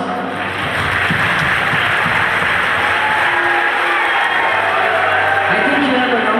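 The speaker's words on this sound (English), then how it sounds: "give him a round of applause" An audience applauds steadily at a 2005 magic show, a dense, continuous wash of clapping that swells after a quieter first moment and carries on with faint voices mixed in.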